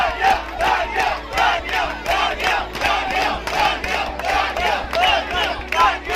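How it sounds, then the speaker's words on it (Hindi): Supporters greet an election winner at a union election at Falaknaz Plaza. A crowd chants slogans in regular rhythmic bursts that rise and fall steadily, loud and close. "इनके हामियों ने भरपूर अंदाज में तालियां बजाकर और नारे लगाकर उनको खुशामदीद कहा।"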